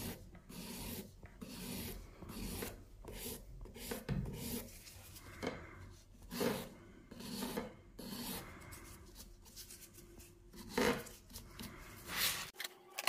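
A file rasps across an acrylic nail extension in short, quiet, close strokes, an uneven rhythm of soft scratchy rubbing with brief pauses between passes.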